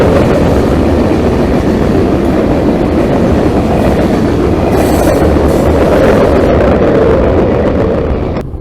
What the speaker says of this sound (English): You'll hear me toot the horn, and the train actually answers back.